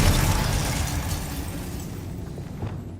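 A blast from the Confringo spell in a Harry Potter video game, a loud booming burst at the start that rumbles on and slowly fades over a few seconds.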